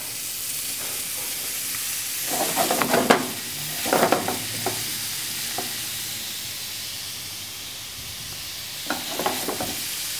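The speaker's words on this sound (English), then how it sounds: "I'm going to add it to our pan here with a little hot olive oil." Diced wild boar sizzles in hot olive oil in a pan, with soft frying crackle broken by louder stirring and scraping bursts at intervals, no talking.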